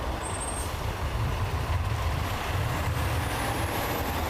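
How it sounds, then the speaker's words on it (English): Semi-trucks roll past near a border crossing in Texas, a steady, loud low-frequency engine and road rumble filling the whole stretch, with a brief high whine early on and no voices. "semi-trucks continue to roll past"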